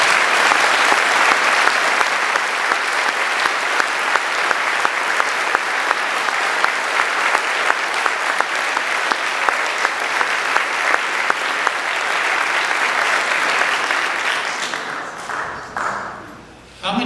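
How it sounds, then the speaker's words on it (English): Sustained applause from an audience at a federal election candidates' debate in a church, steady dense clapping filling the room for about fourteen seconds before thinning out and fading near the end. "give a round of applause for the candidates that put themselves on the line"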